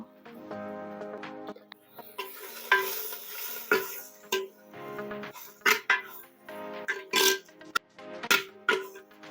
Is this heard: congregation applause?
no